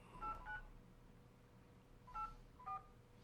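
Telephone keypad tones sound as a phone number is dialed: two quick dual-tone beeps, a pause, then two more, faint and clean over a quiet background.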